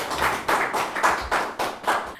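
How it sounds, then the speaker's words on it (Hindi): Several people clap in rhythmic bursts for an answer at a farmers' question forum in Shimla, Himachal Pradesh, each burst of close hand claps rising and falling over about two seconds. "तो ताली हो जाए मैं चाहती हूँ कि इस जवाब पर"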